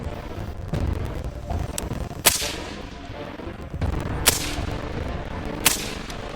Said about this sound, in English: You take a few more hasty shots because this utilitarian scumbag is closing in on you fast.